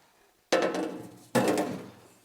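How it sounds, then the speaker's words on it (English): A drill bores small pilot holes during a Van Amburg double-pass intercooler install on a VK1000 Turnitrobeast, two sharp close bursts in sequence, each trailing off as the bit cuts through. "I'm gonna drill a few little pilot holes in this"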